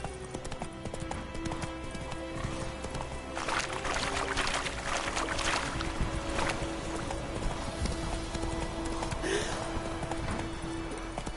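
Roach, the horse in The Witcher 3, gallops with a fast, continuous clip-clop of hooves under ambient game noise, steady and fairly loud throughout.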